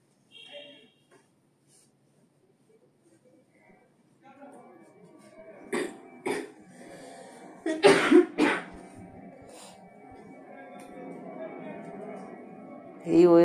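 A few sharp coughs break out in a home kitchen while chicken chaap simmers, coming as separate bursts close to the microphone over faint background clatter.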